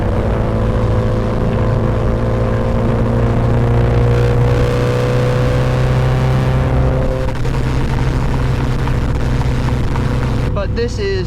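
A 301-horsepower car with a front limited-slip differential accelerates along a road, its engine drone rising in pitch and then settling back, loud and close, while someone talks over it.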